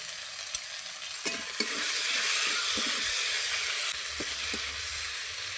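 Chopped tomato fries with ginger and garlic in a pan, giving a steady close sizzle with occasional spatula scrapes and stirring knocks; no voices.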